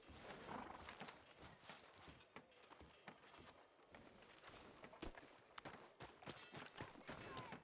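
Horse hooves clip-clop on a town street in Red Dead Redemption 2, an uneven run of steps at moderate distance amid ambient game sounds.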